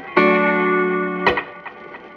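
Guitar through a Fender Echo Reverb III oil can delay unit with echo volume at maximum: a sustained plucked chord rings for about a second, then a second attack is followed by fading, wobbly repeats trailing off.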